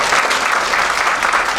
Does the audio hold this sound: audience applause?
yes